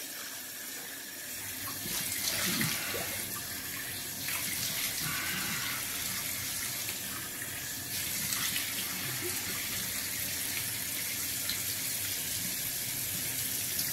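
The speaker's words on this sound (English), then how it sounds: "Then I go back and rinse it off with cold water." Cold tap water runs steadily into a sink while a face is rinsed after a traditional wet shave, a close, continuous splashing rush with no talking.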